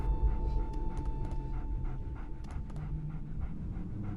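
A dog in a Game of Thrones video game panting steadily and rhythmically, close and clear, with a few faint yips over a low background hum.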